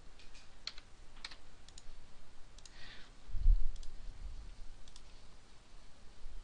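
Someone types on a computer keyboard at a desk with scattered, light clicking keystrokes and a soft bump midway, close and quiet with no talk.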